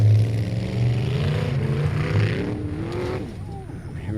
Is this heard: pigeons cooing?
no